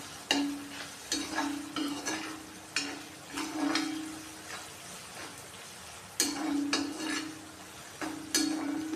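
A mushroom fried rice mixture is stirred in a pan over a low flame, with repeated spatula scrapes and clanks against the metal at an uneven rhythm over a soft background sizzle.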